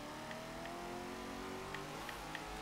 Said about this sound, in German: Dieser Kompressor-Sound